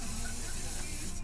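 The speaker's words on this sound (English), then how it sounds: "Póngale spray ahí, así. Del pelo, simple spray del pelo." Hairspray hisses from an aerosol can in a continuous, loud, steady burst at close range during a salon haircut, with no talking over it.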